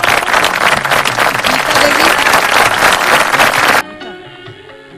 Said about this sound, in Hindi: चलिए जोरदार ताली बजाइए आपने।